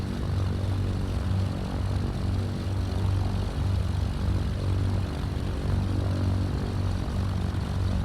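A Cessna 310R twin-engine propeller plane idles at about a thousand RPM in a flight simulator, a steady, loud engine drone with a low pulsing hum and no voices.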